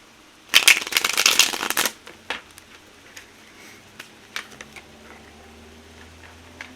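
An old, worn tarot deck riffled in a dense shuffle of crisp flutters lasting over a second, followed by a few scattered soft taps and quiet handling in otherwise calm surroundings.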